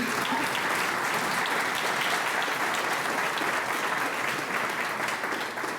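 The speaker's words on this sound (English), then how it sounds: "Can we give them a round of applause, please?" Continuous, full-room audience applause at a community achievement awards gala, holding a steady intensity from start to finish without speech.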